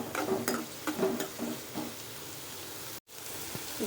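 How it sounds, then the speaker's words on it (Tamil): Onions fry in a pan for Tamil-style tomato thokku, a soft, steady sizzle broken early by several clinking scrapes as a spoon stirs them, then a quieter even hiss after a brief cut. "இதை இப்போ கொஞ்சம் நல்லா கிண்டி விடுவோம்."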